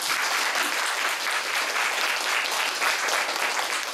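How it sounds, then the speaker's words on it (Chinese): Audience at a Q&A session claps warmly in a dense, steady burst of many hands, sustained and close for several seconds without letting up. "热烈掌声一下"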